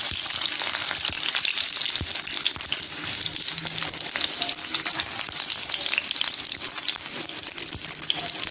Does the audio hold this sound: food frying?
yes